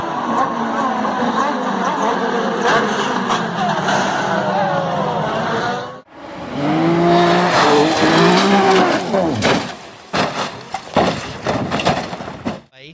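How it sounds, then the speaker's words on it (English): Pro Mazda single-seater race cars wreck on track, with loud engine howls and tire squeals, a sudden cutoff, then renewed screeching and sharp impact bursts near the end. "huge wreck in Pro Mazda coming"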